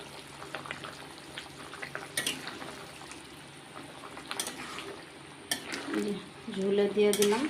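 Fried paneer added to curry gravy in a cooking pan, with utensils clinking and scraping against the metal, a faint running tap, and bubbling, sizzling gravy growing louder toward the end.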